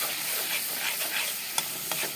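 Spice paste of turmeric, coriander, cumin and chilli being stirred and fried for a rohu fish curry, a dense, close sizzle with a couple of brief spatula knocks, no speech.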